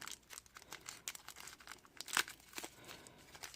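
Plastic bags are torn open and crinkled during an unboxing of a DJI Mavic Air drone, a quiet run of close rustles and rips with one sharper tear midway, no one speaking.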